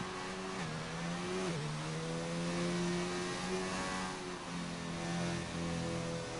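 Onboard engine note of a McLaren Formula 1 car in an F1 racing video game at Barcelona, a steady high-pitched whine that climbs and drops through gear changes, loud and continuous with no talking.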